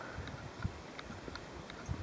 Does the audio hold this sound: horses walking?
yes